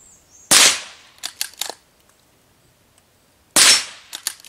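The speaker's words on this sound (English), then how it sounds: "It's the Savage Mark II, 22 long rifle. Let's see what we can hit." A Savage Mark II .22 long rifle fires two sharp, close shots about three seconds apart at targets, each crack followed by a few quick, lighter metallic pings or clicks, with near silence between them.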